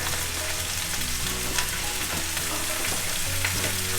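Vegetables for a cheesy stir fry sizzle loudly and continuously in a hot pan as they are mixed, with a constant dense crackle and occasional scraping knocks from stirring.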